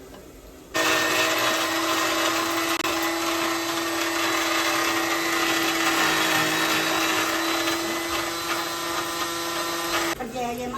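Mixer grinder whirring loudly and steadily while grinding fried chicken for pickle, a constant motor roar with a strong tonal hum that starts abruptly and stops near the end.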